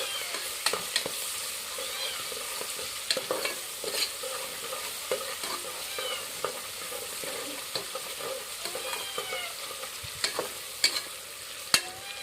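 Onions frying in a pan for chicken biryani, a steady crackling sizzle broken by frequent scraping stir strokes, close and continuous with no voices.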